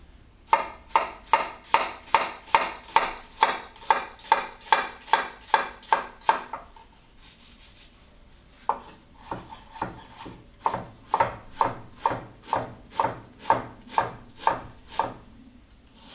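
A knife chops an onion finely on a cutting board in quick, regular strokes, each a crisp close knock. A run of about fifteen chops is followed by a short pause, then the chopping resumes at the same rhythm.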